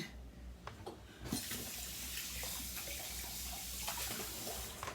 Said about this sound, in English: I'll start by pouring some okra, some of this juice in here